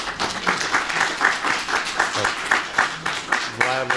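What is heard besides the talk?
applause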